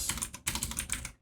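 Quick keystrokes on a computer keyboard as a web address is typed into a browser, producing a dense burst of crisp clicks with a brief pause partway through. The typing is close and clear, with no talk over it.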